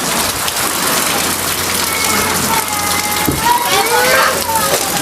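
Heavy rain pours outside a house, a dense, steady hiss of drops drumming on surfaces that fills the whole stretch at close range, with no voices.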